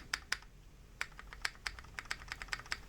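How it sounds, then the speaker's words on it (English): Sharp, clacky key strikes on a Keychron Q6 mechanical keyboard, mostly spacebar presses, come in an uneven typing rhythm of about a dozen close, crisp hits with no talking. "Spacebar doesn't sound too bad."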